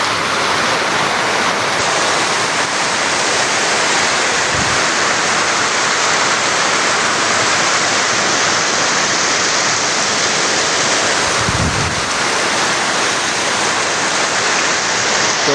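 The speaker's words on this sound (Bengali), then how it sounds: "প্রচণ্ড বৃষ্টি হইতেছে" Heavy rain pours in a loud, unbroken roar at D M Khali Bazar, with water rushing across a flooded road; a couple of brief low thumps rise out of the dense wash.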